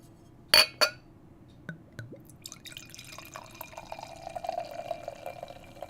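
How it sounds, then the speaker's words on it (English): Prairie Artisan Ales beer poured into a glass: two sharp clinks at the start, a few drips, then a steady, rising liquid fill that carries on to the end, near and alone. "The theatrics of however long it takes me to pour this beer."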